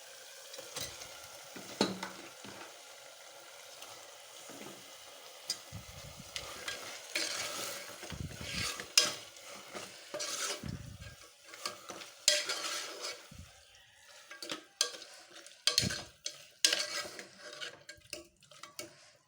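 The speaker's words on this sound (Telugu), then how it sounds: "ఇప్పుడు మనం కడిగి పెట్టుకున్న మటన్ వేసుకుందాం." Washed mutton pieces go into a pan of softened frying tomatoes for mutton curry, bringing steady sizzling with irregular stirring scrapes and clinks of a spoon against the pan, close and moderately loud, with no talking.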